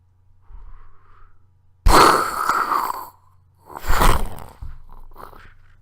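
A voice imitates a breaching whale: a soft hum, then a loud rushing whoosh and a second splashing burst, with quiet pauses between.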